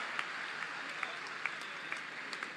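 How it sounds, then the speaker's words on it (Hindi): Audience applause at an event honouring sports medal winners, a steady wash of clapping with a few sharper claps standing out, moderately distant and even throughout. "सारा दिन तालियां बजाते रहेंगे आप।"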